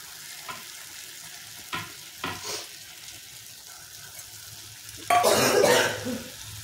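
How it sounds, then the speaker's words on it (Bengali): Masala for chicken tikka masala being fried and stirred in a pan, heard as scattered scraping stirs early on and then a loud burst of sizzling near the end, with no talk. "মশলাটা দিয়ে খুব ভালোভাবে কষতে থাকবো।"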